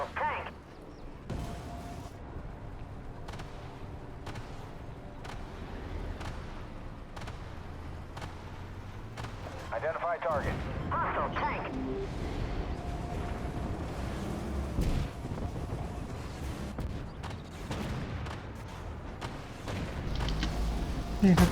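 Tank cannon fire in the online tank combat game Armored Warfare, heavy booms and sharp shots spaced irregularly over rumbling engine and battle noise, with a calm voice talking in places.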